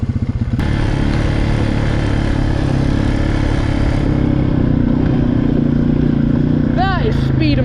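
A quad bike engine runs continuously while riding across a field, a loud steady motor drone with rough mechanical clatter throughout, briefly rising in pitch near the end.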